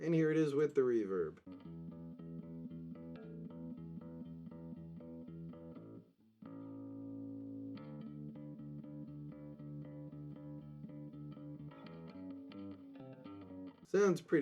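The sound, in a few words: hair metal bass guitar track with ambient reverb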